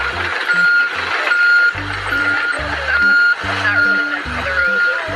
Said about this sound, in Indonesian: Ini ada truk molen.